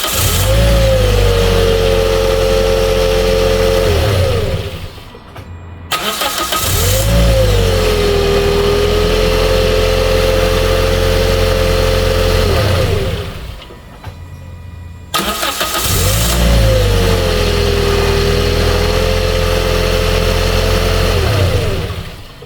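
A Toyota Corolla engine with a sticking starter solenoid cranks and fires three times, each start rising into a loud revving run, then cutting off into brief silence before the next.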